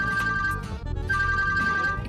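A mobile phone ringtone plays loud and close, a bright repeating electronic melody with a brief break near the middle before it resumes, with no voices over it.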